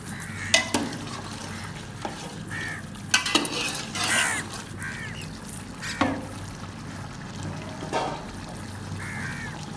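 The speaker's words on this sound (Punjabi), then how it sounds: "ਮਿਕਸ ਕਰ ਲੈਣੇ ਹਾਂ।" Chicken being mixed in a pot with tamarind and dried plums for biryani, repeated spoon scrapes and knocks against the pot over a low background sizzle, close and free of talk.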